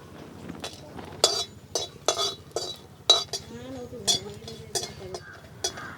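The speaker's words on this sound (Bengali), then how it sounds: "তার জন্য নিয়েছি শুকনো লঙ্কা, ধনে, জিরে আর মৌরি। এগুলো আমি খুব ভালোভাবে ভেজে নেব।" Dried chillies, coriander, cumin and fennel dry-roasting in a pan, with sharp clinks and scrapes of a utensil stirring against metal at irregular intervals over a faint sizzle, while a person talks throughout.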